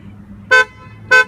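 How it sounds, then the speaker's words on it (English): Two short, loud horn chirps from a BMW as it locks with the smart key, evenly spaced about half a second apart, close by, with only faint background noise between them. "just press the button located on the door handle once to lock."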